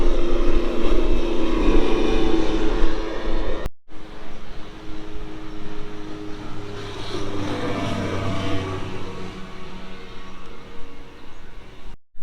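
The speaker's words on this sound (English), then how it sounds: "Comes one of the racing tinnies" A racing tinny, a small aluminium boat, motors past on the River Murray at Ral Ral Creek, its outboard drone building and fading steadily over about twelve seconds amid wind and campsite ambience.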